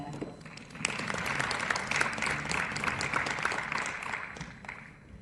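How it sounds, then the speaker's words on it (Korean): Applause from a forum audience, a dense burst of many hands clapping that holds steady for several seconds and then tapers off. "박수로 맞이해 주시기 바랍니다"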